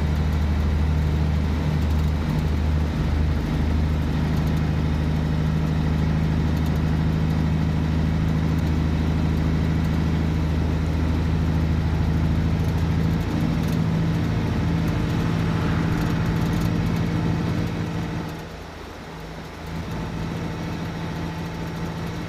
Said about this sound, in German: bei mir auf dem Headset ist der Motor gerade so laut